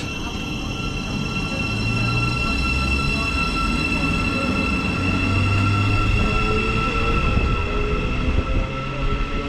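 A Class 700 Thameslink train departs on a service from London King's Cross, giving a steady, loud rumble of wheels and traction with sustained high whining tones throughout, close by and without talk.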